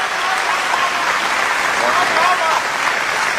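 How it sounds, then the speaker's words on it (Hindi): Audience at a poetry recital breaks into sustained, dense applause, loud and even throughout with no gaps. "भाई तालियां कम थी।"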